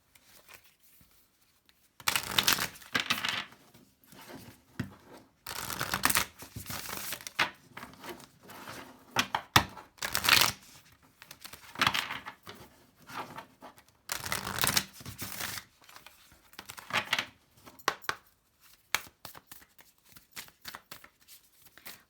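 Oracle cards being shuffled in bursts of crisp riffling and slapping, close and fairly quiet, separated by short pauses.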